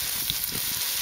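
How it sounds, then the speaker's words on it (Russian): Mushrooms fry in overheated oil over an outdoor grill, giving a steady, close hiss of sizzling with no talk. "Вот видите, как они сразу начали жариться."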